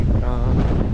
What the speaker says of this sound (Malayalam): നല്ല നല്ല കാറ്റടിക്കുന്നുണ്ട് കേട്ടോ